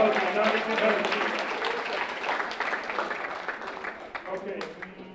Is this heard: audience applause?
yes